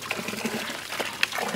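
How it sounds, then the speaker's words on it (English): Water running steadily from a drain pipe out of a backyard pond, a continuous close splashing gush with small bubbling and dripping accents. "This is a drain pipe coming out of my pond."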